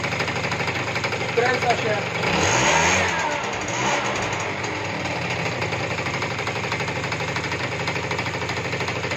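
A two-stroke scooter engine idles steadily after carburetor throttle adjustment, with a brief rise in revs near the start; someone speaks briefly over the running motor.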